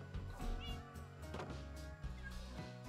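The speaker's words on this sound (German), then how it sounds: "Und dann züchten wir die Katzen schnell ein bisschen hoch." Cats meowing inside the Minecraft video game, a few short calls over a busy, layered game soundscape at moderate volume.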